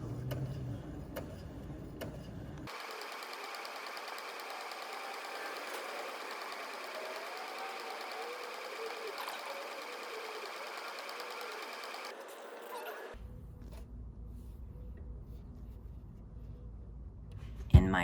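A sewing machine stitching fabric for a full-scale Kakumaki pattern, running in a long steady whirring burst with a soft rhythmic mechanical hum, bracketed by brief quieter handling noise before and after.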